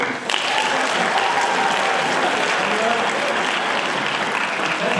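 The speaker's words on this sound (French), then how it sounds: "On peut encore applaudir les deux équipes" Audience at a debate final applauding both teams, sustained loud applause filling the room from start to finish with a faint murmur beneath.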